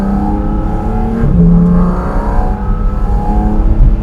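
Porsche Cayman GT4 RS flat-six engine revving loudly on an Alpine mountain pass, with a steady high-rpm drone that swells and rises in pitch midway, unmodified exhaust, close and sustained throughout.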